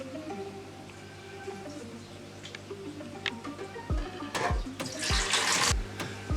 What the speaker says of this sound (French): on va mettre l'eau dans la petite box en acrylique pour pouvoir faire l'acclimatation des poissons